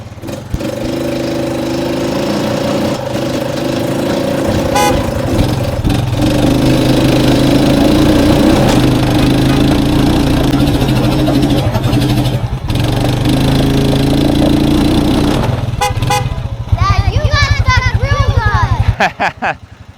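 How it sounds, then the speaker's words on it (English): A four-wheeler ATV in four-low with its rear locker engaged revs hard while pulling a stuck Ford truck, a loud, sustained mid-pitched engine drone that rises and dips, with louder revving near the end. "you're trying to pull this out with a four-wheeler"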